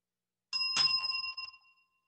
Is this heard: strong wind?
no